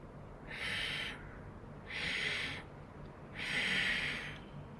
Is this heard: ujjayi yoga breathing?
yes